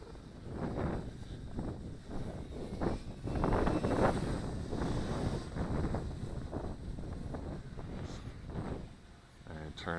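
Strong, gusty wind of roughly 20 to 30 mph buffets an outdoor microphone, giving a steady rumbling roar that rises and falls in pulses while someone talks over it.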